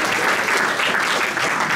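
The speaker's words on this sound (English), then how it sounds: "Give him another round of applause" Audience applause at an ex-servicemen's club music night, a steady, full round of clapping from the room that holds evenly for a couple of seconds with no voices on top.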